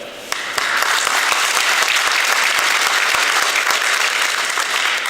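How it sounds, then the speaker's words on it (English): Loud, close audience applause at the Sandridge expansion ribbon cutting, beginning abruptly and holding a thick, even roar of clapping from many hands for about five seconds. "So thank you, and applause to you."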